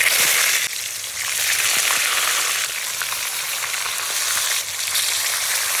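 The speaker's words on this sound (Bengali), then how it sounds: "এবার আমি তেল গরম হয়ে গেছে, এগুলো ভেজে নেবো।" Eggs frying in hot oil in a kadai (wok-style pan), a steady bright crackling sizzle holding close and loud for the whole stretch, with brief dips in intensity and no talk.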